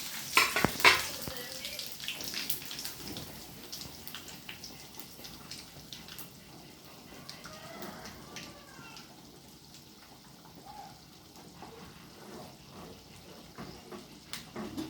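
Curry leaves sizzle in hot oil for a vathal kuzhambu, a sharp crackling burst at the start settling into a steady low frying hiss with light stirring, no voices.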